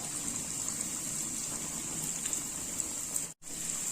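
Kaja pastries sputter in hot oil, an even, dense bubbling hiss like rain that holds steady at close range, broken once by a brief gap near the end.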